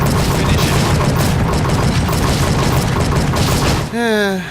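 Rapid .50 BMG machine gun fire in the Wii game Reload, mounted on a slow-moving Humvee, hammers away in a loud, dense, continuous stream of shots, ending with a brief rising electronic warble.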